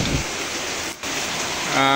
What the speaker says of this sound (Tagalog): umuulan kaya medyo nahinto ako